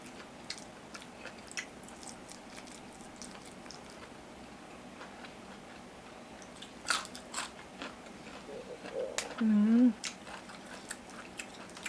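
Close, faint crunching and biting from eating fermented tilapia fish with lime, chili and fresh vegetables, scattered soft bites over quiet room tone with a louder chewing burst near the end.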